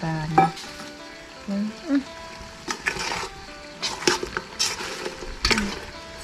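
Food fries with a sizzle in a pan while a Thai salted pork dish with pickled bamboo shoots is cooked. Intermittent talk and some utensil clatter come in over the frying.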